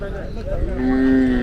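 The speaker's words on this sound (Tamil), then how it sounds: "அது கிடாரி தான்." A heifer moos at a native cattle market in Palayakottai. One long, loud, tonal moo rises near the end of the moment over low market background noise.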